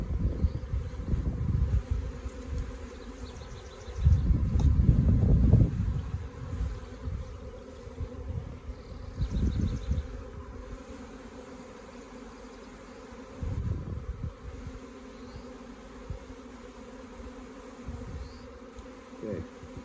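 Honeybees buzz around an open beehive in a dense, steady drone that swells louder for a couple of seconds early on, then settles back into a continuous hum.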